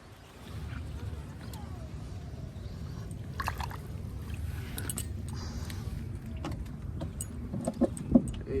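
A small wooden boat is pushed and rowed through dense grass in a shallow village wetland where water lilies grow, giving a steady low rustling and swishing drag with occasional knocks and faint voices nearby.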